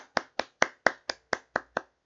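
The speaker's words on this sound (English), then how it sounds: "Please give them a big round of applause." Eight sharp, evenly spaced claps from a small group at a live ambassador welcome event, arriving in a slow, regular rhythm with short gaps between each.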